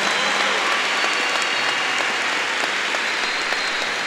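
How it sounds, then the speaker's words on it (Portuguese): Congregation applause at a church gathering, a steady dense wash of many hands clapping without pause, moderately loud and close throughout. "Ela não morreu, gente, pode aplaudir."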